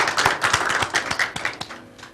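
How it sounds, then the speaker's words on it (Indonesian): A studio audience at a Surabaya TV talk show claps after a host's cue, a burst of sharp, closely spaced claps filling about two seconds before thinning out near the end. "tepuk tangan dulu dong."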